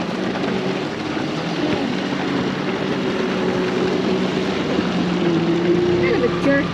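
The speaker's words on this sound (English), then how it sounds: "Uh-oh, jet skis." Jet skis drone nearby on a canal, the engine whine rising slightly toward the end, with people talking over it.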